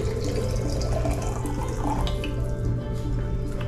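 Hot water from a tap steadily filling a tea container of about half a gallon, a continuous rushing and splashing flow that stays loud and even throughout, with no talking.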